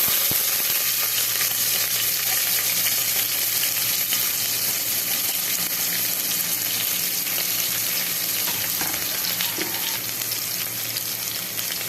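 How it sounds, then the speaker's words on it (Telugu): Chopped onions and mustard seeds fry in hot oil in a pan, a steady, dense sizzle with faint crackles and occasional stirring throughout, close and without talk. "ఇప్పుడు కొద్దిగా ఆవాలు వేద్దాం. ఇప్పుడు ఆనియన్స్ వేసేద్దాం."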